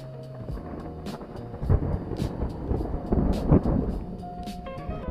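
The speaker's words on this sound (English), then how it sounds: "It's starting to really thunder and crackle out here" Loud rolling thunder outdoors during a storm, a continuous deep rumble with several sharper crackling peaks over steady rain-like noise.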